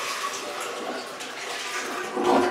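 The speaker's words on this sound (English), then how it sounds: "Pour the hot water" Hot water poured from a container into a clogged toilet bowl, a steady splashing pour lasting a couple of seconds and swelling louder near the end, with no talk over it.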